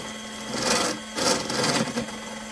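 A Lyman Case Trimmer Xpress trims a brass cartridge case with a steady, close whirring cut. Pitch and loudness swell and ease slightly across the short stretch as the case is worked.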